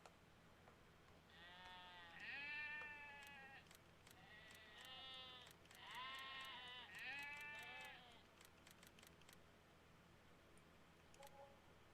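Sheep bleating in a video game: several wavering bleats in clusters over faint background hum, fairly clear and close, alongside sharp clicking ticks, with no voices.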